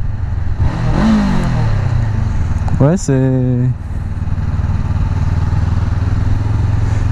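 A 2017 Honda CBR 500R motorcycle engine and stock exhaust rumble at a steady hum while riding, rising in a quick rev around the middle before settling back, with a rider talking over it briefly.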